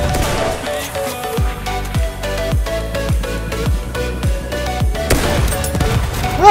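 Rapid gunfire in the video game Battlefield 1, a dense fusillade of booming shots with low thumping impacts, roughly one every half second, loud and close, with no voices over it.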